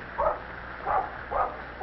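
A mother dog, Mack, barks warnings to keep her puppy away from a seal; three short bark bursts come at a steady rhythm, moderately close, with no talk.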